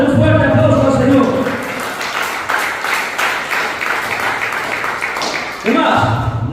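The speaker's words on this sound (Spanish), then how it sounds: "den un fuerte aplauso al Señor" A church congregation gives a strong round of applause to the Lord during a sermon, a dense wash of clapping that swells and settles, with a voice over it at the start and again near the end.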